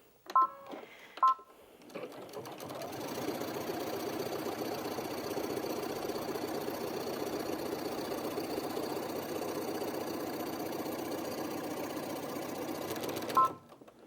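A Brother Innov-is VQ2 sewing machine runs a lightning stretch stitch on rib fabric, giving a steady, close mechanical whir that lasts about eleven seconds, with a few short beeps before it starts and another at the stop.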